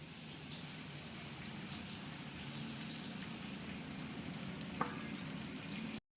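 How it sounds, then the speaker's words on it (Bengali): Onions frying in hot oil in a home kitchen give a steady, soft sizzle with faint crackles that run evenly and alone, with no talking. "হালকা পেঁয়াজের তেলে ভাজা হচ্ছে এবার দিয়ে দেবো কেটে রাখা বাকি পেঁয়াজটা"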